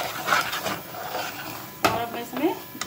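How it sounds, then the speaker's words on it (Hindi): Moong dal halwa with milk solids and cream being stirred in a pan, giving soft scraping and occasional spoon clinks against the metal, close but fairly quiet, with a few sharper knocks near the end. "इस तरह से चलाते रहना जिससे कि लम्स ना बने।"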